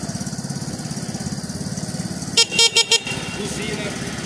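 A small bicycle-based motorcycle engine with an added electric starter chugs steadily up close, then a horn gives several quick beeps in a burst before the idle carries on.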